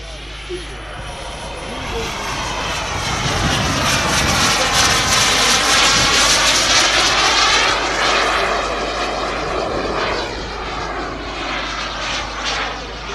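A powered aircraft flies a display with its landing gear stuck down, its engine a loud, sustained roar that swells as it passes close by and then eases slightly toward the end.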